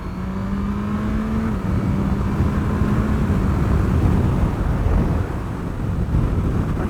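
A 2022 Suzuki GSX-S1000GT motorcycle cruising at 70 mph in sixth gear just under 5,000 RPM, a steady smooth engine drone under heavy rushing wind noise, with no speech.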